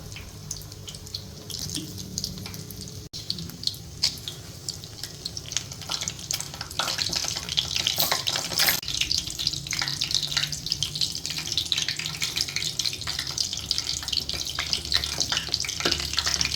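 Chicken cheese balls deep-frying in oil in a kadhai over very low heat, a steady close bubbling sizzle that grows somewhat fuller partway through, with no talking.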